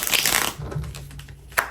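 Tarot cards shuffled in a burst of papery riffling and rustling, loud at first, then thinning to softer shuffles and a final snap, close to the mic during a card reading.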